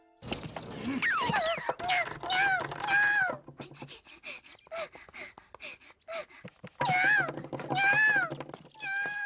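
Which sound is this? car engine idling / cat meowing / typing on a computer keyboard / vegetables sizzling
cat meowing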